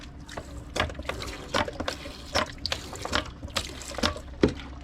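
Water squirts from a squirt bottle into a toilet tank inside a converted school bus, a series of short, splashy spurts and trickles repeating irregularly at close range with no talking.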